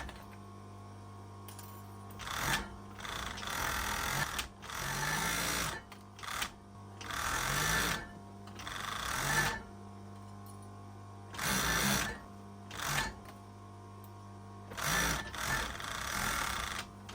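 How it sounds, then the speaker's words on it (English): Overlocker sewing machine stitching and trimming fabric for a handmade makeup bag, in several loud bursts of rapid whirring separated by short pauses. "just going to take that over to the overlocker"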